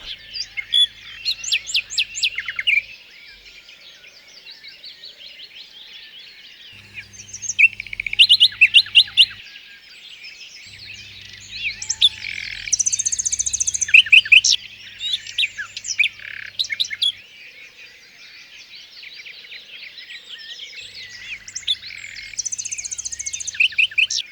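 A nightingale sings at RSPB Pulborough Brooks in bursts of rich, varied chirps, trills and whistles, clear and fairly close, with short pauses between phrases and a faint low background hum.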